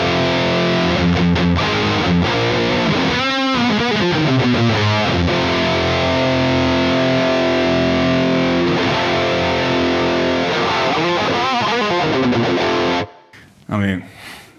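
Heavy, chunky distorted electric guitar played through a Marshall Plexi-style amp, loud and sustained riffing with saturated gain throughout, brief pauses, then cutting off near the end.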